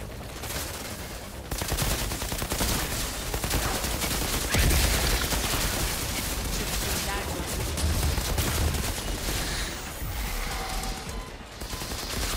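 Dense bursts of automatic and rapid gunfire in the co-op shooter game Outriders, loud and nearly continuous with heavier impacts, while players talk over the action.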